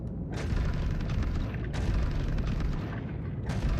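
Ballistic ship weapons in a space combat video game fire and strike an enemy ship's shield, a dense, continuous stream of booming, crackling impacts that surge in repeated bursts and hold loud throughout with no talk.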